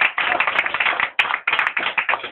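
A church congregation clapping together in fast, rhythmic bursts, loud and close, with a couple of short pauses and no speech over it.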